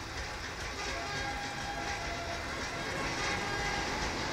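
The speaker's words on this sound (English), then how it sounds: "Oh, train!" A train rolls past in the GTA 5 video game, a steady, loud rumbling wash with a faint tonal hum. It holds evenly throughout without any clear horn blasts.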